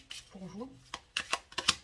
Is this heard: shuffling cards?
yes